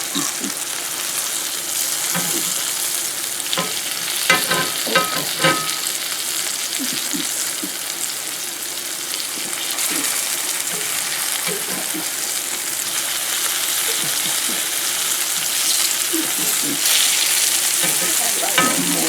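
Sliced cucumbers fry in a pan with a steady, loud sizzle and crackle that lasts the whole time, broken now and then by soft scraping and stirring. No one speaks.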